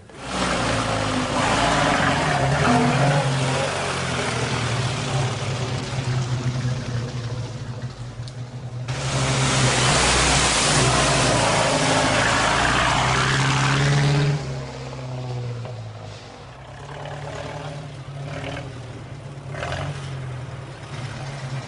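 A car engine roars loudly and steadily throughout. It swells to a harsher peak midway, then settles to a lower drone, with no voices over it.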